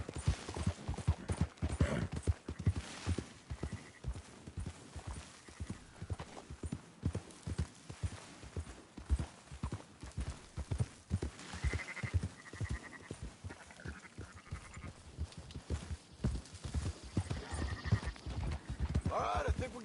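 Horse hooves clip-clop in a steady rhythm while sheep bleat now and then during a herding ride in the video game Red Dead Redemption 2, with voices talking over much of it.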